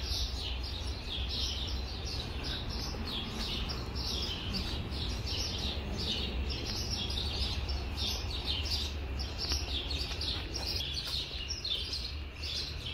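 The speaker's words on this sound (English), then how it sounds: "there are lots of birds in this area" Many small birds chirp and tweet outdoors in a continuous bright chorus, dense, repeated calls at moderate distance over a steady low hum of ambient noise, with no one talking.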